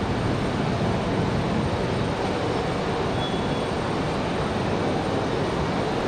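An American Airlines airliner from Charlotte at Raleigh-Durham International Airport gives off a continuous broad jet engine roar, steady and loud throughout with no talk.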